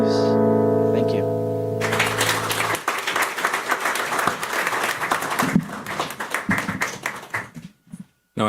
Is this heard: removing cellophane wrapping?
no